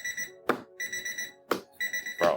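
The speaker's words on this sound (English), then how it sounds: "I hate this stupid alarm." An electronic alarm clock beeps in repeated bursts of high, steady tones, broken by short thumps or taps between bursts, loud and close with no voices.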